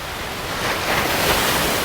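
Storm-driven waves surge onto the rocky shore of Manila Bay, a broad roaring wash of surf and wind that swells slightly louder midway, with no voices.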